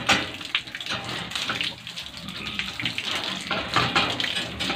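Water splashing and streaming steadily over a pet pig to rinse off Perla soap lather, a continuous close wash with no voices.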